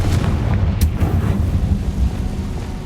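Spell explosions in the video game Hogwarts Legacy land as heavy, booming blasts over a dense low rumble, with one sharp crack standing out near the start.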